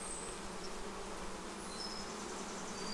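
Dense, continuous buzzing of many honeybees in a hive, close and steady, with brief higher-pitched wingbeats passing overhead.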